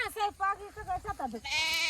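Several sheep in a farm flock bleat in quick succession nearby, wavering cries overlapping one another.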